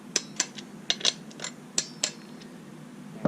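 Ratchet tightening bolts during the build of a Farmertec G660 chainsaw: about a dozen sharp, close metallic clicks at an irregular rhythm, heard alone.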